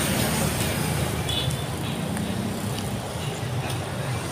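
Dense holiday traffic on the Pantura road rolls past in a steady, unbroken roar of cars and motorbikes, loud and continuous, with a voice talking over the din.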